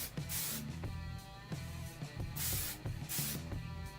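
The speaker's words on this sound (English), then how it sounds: "We're just gonna get a little bit of memory spray on the hair" Memory hairspray sprays onto hair in several short, close hissing bursts separated by brief pauses.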